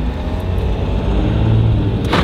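A steady, close engine rumble from an eco diesel car on the move, heard continuously from inside the vehicle, with a brief brighter rush near the end.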